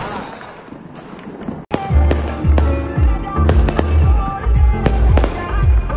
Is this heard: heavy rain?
no